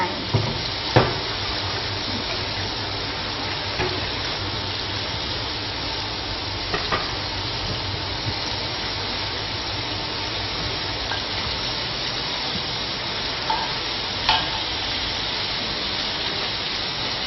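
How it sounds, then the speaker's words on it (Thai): Fish frying in hot oil, a steady dense sizzle with faint crackles and occasional sharper pops, moderately loud and continuous with no voices. "เดี๋ยวเราทอดปลายเสร็จก่อนนะคะ"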